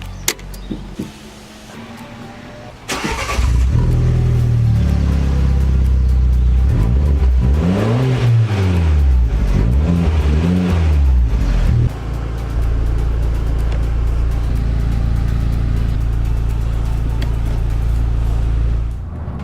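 An Alfa Romeo MiTo QV engine with an aftermarket exhaust revs hard in repeated rising and falling sweeps, loud and throaty, then settles into a steady rumbling drone.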